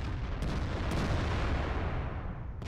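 FV304 self-propelled artillery firing in the World of Tanks video game, a loud, sustained booming rumble that fills the clip with dense low-end roar and no voices.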